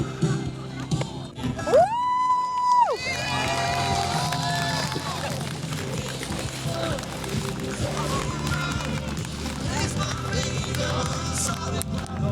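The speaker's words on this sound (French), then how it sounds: "Les acclamer, les applaudir pour leur choix." A congregation at a church baptism service cheers and applauds, a sustained wash of clapping and crowd voices that follows a brief rising electronic tone and fills the rest of the clip.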